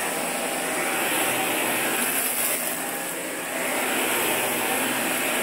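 A Eureka ReadyForce Total vacuum cleaner runs steadily on carpet, giving a loud, continuous motor whine and airflow roar that holds constant throughout with no talking.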